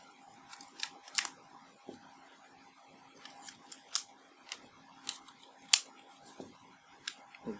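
AA batteries are loaded into the plastic battery tray of a Pentax D-BG4 grip for a K-5 camera, with a series of small, close, sharp plastic clicks and snaps at irregular intervals over quiet background.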